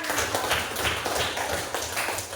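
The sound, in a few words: classroom applause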